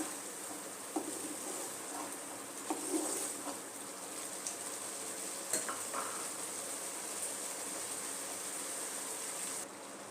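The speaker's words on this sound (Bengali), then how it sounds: "ভালো মতো চাটনিটাকে একটু ফুটিয়ে নেব" Tomato chutney bubbles and simmers in a pan, giving a continuous soft sizzling hiss with scattered small pops and light clinks.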